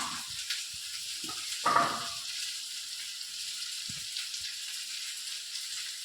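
Cauliflower frying in a home kitchen pan gives a steady, soft sizzle with a faint crackle, and a few brief knocks and one louder clatter break through, with no talking.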